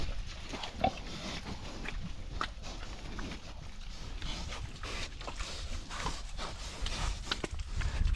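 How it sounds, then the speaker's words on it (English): Pigs bite and chew on a freshly pounded fence post, giving scattered crunching, snuffling and shuffling noises over a steady low outdoor rumble, fairly faint and close. "every one of them had to come over and bite and chew on it."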